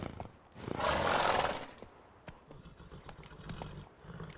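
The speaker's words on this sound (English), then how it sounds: "Get on the horse." A horse gallops in The Witcher 3, with a loud rushing burst of hooves and movement early on, then a quieter run of thuds and hoofbeats that fades and returns.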